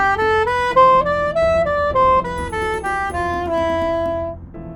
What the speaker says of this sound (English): The original Phrygian scale sounds like this.